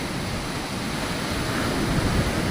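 Sea waves wash onto the shore at Kala Patthar beach on Havelock, a steady, even hiss of surf with no voices.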